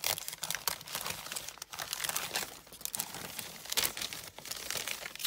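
Untaped Christmas gift wrapping paper being slowly and carefully peeled open to save it, with continuous close crinkling and rustling, occasional sharper crackles and soft tearing.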